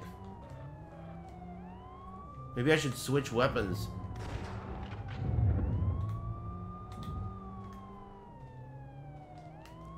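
Wailing police sirens rise and fall steadily through a chase in a police-chase video game, with bursts of game noise and a player talking over them.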